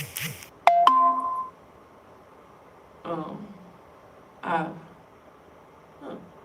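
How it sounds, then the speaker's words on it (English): A phone gives a short electronic notification chime, a bright tonal ping that rings out briefly, followed later by a few short bursts of speech. "Sorry, a notification."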